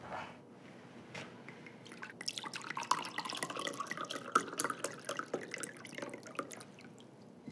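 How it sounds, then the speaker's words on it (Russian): A drink being poured into a glass during an office scene, a faint, soft liquid trickle and dripping that builds briefly, fairly close and quiet. "А тебе налью."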